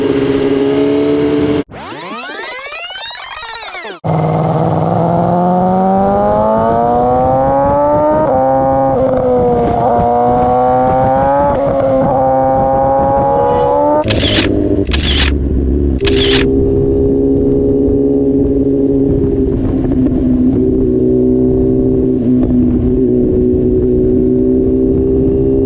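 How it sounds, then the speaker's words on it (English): A 2020 BMW S1000RR M sportbike fitted with a full Akrapovic GP exhaust rides along the Delaware River, its engine droning loud and close with rising revs, gear shifts, and brief sharp bursts of wind and handling noise. "Riding on such an awesome machine, the BMW S1000RR, is just"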